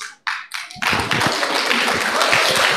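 An audience at a Vincentian study week gathering breaks into applause. A few sharp separate claps open it, then it swells into a dense, steady round of clapping.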